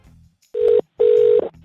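Telephone tones right after a call is hung up: two short steady beeps, the second longer, with a faint low hum before and after.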